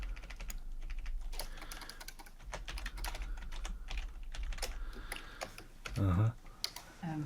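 Rapid clicking of a computer keyboard as someone types a search into a Minecraft mod menu, steady keystrokes running throughout with a few louder thumps near the end.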